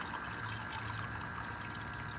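Water gushes steadily out of an aquaponics tank siphon, a constant rushing, splashing flow with a low gurgling undertone that does not let up.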